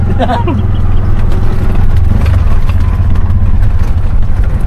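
Bajaj RE three-wheeler engine running steadily with a low, even mechanical drone and light clatter, close by, under a man's speech.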